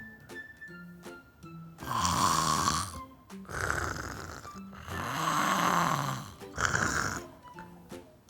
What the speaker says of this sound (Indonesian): tidur ngorok